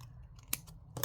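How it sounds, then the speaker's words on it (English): A paper cutter trims a sheet of paper for a journal craft, making a couple of quick, crisp slicing snips close by in a quiet room. "I'm going to trim it straight"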